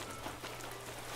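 Steady rain falls in the Animal Crossing: New Horizons video game, a soft, even hiss of drops on the ground that keeps going at one level with no voices over it.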